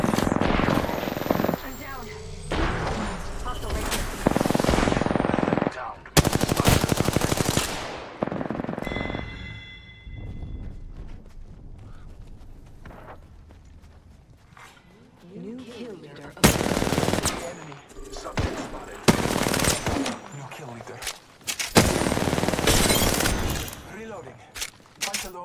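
Gunfire in the video game Apex Legends, loud bursts of automatic fire and single shots in clusters separated by quieter gaps, with in-game voice lines spoken over parts of the action.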